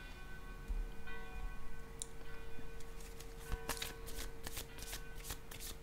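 Tarot cards handled and placed on a table, a few soft slides and then a run of crisp card snaps and taps toward the end, close and fairly quiet against a faint tonal background.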